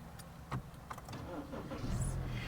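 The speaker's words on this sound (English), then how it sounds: "the DMV examiner is going to ask you to turn on your car." A car engine turns over and starts at the start of a driving test outside the DMV, settling into a steady low idle, with a brief electric whir near the end.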